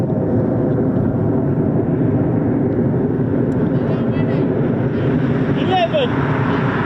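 Steady, loud roar of a Eurofighter Typhoon jet doing a performance takeoff at RAF Coningsby, a continuous rumbling wall of engine noise with wind buffeting, as people talk nearby under the din.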